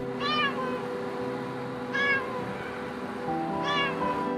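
Three clear meows from a cat, evenly spaced about every second and a half, fairly close, over a faint background hum.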